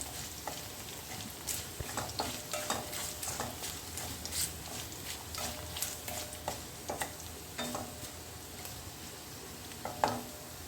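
Mini idlis roast in a pan with a soft low sizzle, punctuated by irregular stirring scrapes and clinks from a spoon, fairly faint and close.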